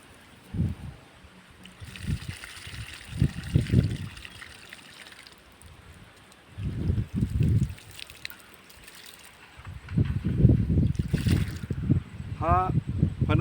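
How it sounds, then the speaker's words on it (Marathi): Water is poured onto mango and jackfruit saplings in a series of short splashing, trickling bursts at close range, separated by pauses, while people talk quietly between pours. "पाणी घालूया"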